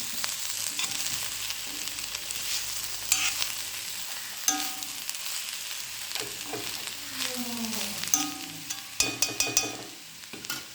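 Papaya stir-fry with grated coconut being stirred in a pan for an Onam meal, with repeated scraping and clinking of the spoon over a low sizzle and a cluster of sharp knocks near the end.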